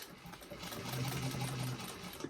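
A sewing machine back stitches over piping on a fabric bag, its motor running in a soft, quick, steady whir that rises briefly, heard alone and close.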